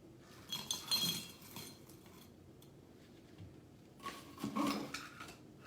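Cracked ice clinks and rattles into a glass in two short bursts, faint and close, with quiet pauses between and no speech.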